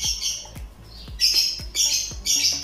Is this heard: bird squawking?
yes